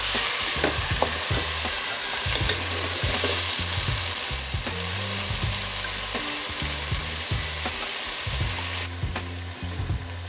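Chicken fries with spices in a pot, a loud, steady sizzle broken by repeated scraping stirs throughout, with no voices.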